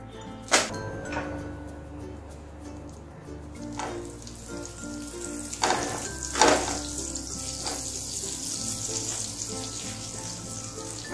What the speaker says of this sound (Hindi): 2 स्पून ऑयल लिया है और इसमें मैं एक छोटा सा पीस बटर का डालूंगी टेस्ट के लिए